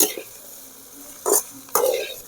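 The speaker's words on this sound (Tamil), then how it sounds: "நல்லா கலந்து பாருங்கள் எப்படி இருக்க" Fried rice being tossed and stirred in a pan, with soft scraping and two distinct louder clattering scrapes of a spatula against metal over a quiet background.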